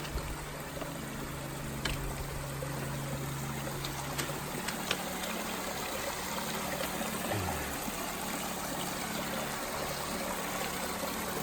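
Trickling stream water along the Appalachian Trail: a steady, close babbling flow with a constant wash of water noise and a low background rumble, without talking.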